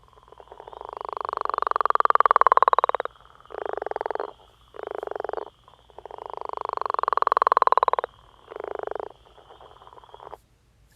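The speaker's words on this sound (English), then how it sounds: "Now we'll listen to the sound of the northern leopard frog." A northern leopard frog calls twice, each call a long, rattling snore-like croak followed by a few short grunting chuckles, clear and close against a quiet background.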